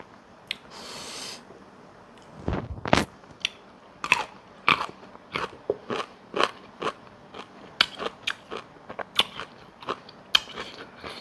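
Someone bites into pickled mango close up, with a sharp crunch followed by a rapid run of crisp, moist chewing crunches in an uneven rhythm against quiet surroundings.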